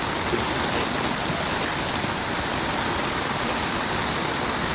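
Rushing floodwater pours through a drainage channel in San Mateo, Rizal during a typhoon, a loud, steady, broadband roar that continues without a break and with no one speaking.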